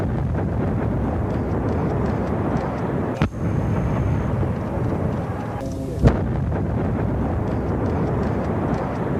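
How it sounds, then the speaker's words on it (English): A C4 bomb detonated at Harvey's casino hotel, heard as a sharp, distant blast that punctuates a steady rumbling background, with a smaller crack a few seconds before it. "the C4 was detonated and the bomb went off"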